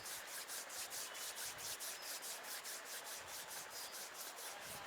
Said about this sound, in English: bring the palms of your hands together at chest level. Rub them gently against each other.